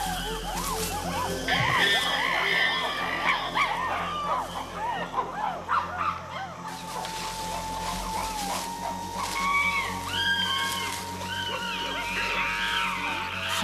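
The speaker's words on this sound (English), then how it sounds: "To intimidate their opponents, the aggressors scream and drum on buttress roots." Wild chimpanzees screaming loudly in a forest as aggressors intimidate rivals, a dense chorus of overlapping high shrieks and hoots with low thumps from drumming on buttress roots throughout.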